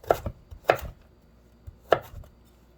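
A kitchen knife cutting vegetables into matchstick pieces on a cutting board: three crisp, close chops in an uneven rhythm, each a sharp knock on the board, with quiet gaps between.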